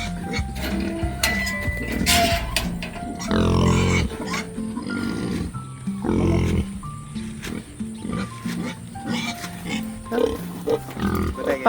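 Pigs being moved for sale, grunting and squealing in loud bursts among clanking metal pen and gear noises, with people talking intermittently in the background.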